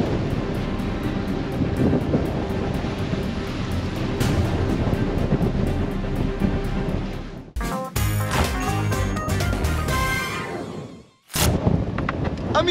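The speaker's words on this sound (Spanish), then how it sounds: "Sopla un poquito acá en el Mar de las Flotas. Una de la mañana, 30 nuditos" Strong wind of about 30 knots blowing at sea in the Drake Passage at night, a steady loud roar with buffeting gusts and crashing surf, broken by two brief drops in level.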